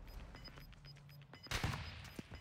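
Gunfire in Call of Duty Warzone 2, with a burst of rapid muffled shots and a louder cracking volley midway, heard at moderate distance over continuous game ambience.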